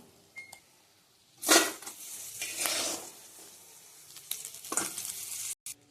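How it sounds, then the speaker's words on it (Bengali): Fried crabs are lifted out of a wok of hot oil: a quiet sizzle swells into louder bursts of crackling and scraping as pieces are moved, with a few metallic clinks, ending abruptly. "ভাজা হয়ে গেছে কাঁকড়া, নামিয়ে নেব।"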